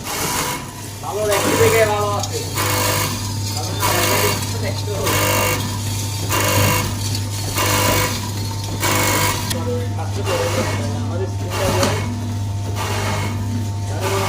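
A packaging machine runs with a steady rapid mechanical clatter and a constant low hum, fairly loud and close, as someone talks over it.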